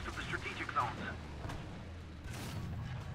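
A tank cannon firing in the War Thunder game, a Tiger E tank in play, with a deep boom under the player's speech, fairly faint and brief.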